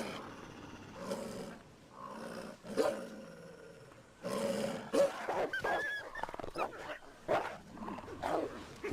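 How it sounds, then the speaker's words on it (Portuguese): Wild European wolves in a pack growl and snarl while feeding, a close rumbling series of irregular snarls rising in intensity, with no speech. "Os rosnados e dentes à mostra reforçam as posições na matilha."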